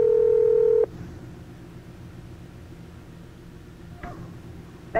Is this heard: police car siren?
no